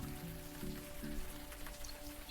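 Rain falling in the video game Unavowed, a soft steady patter with a low background hum, faint and continuous with no talk.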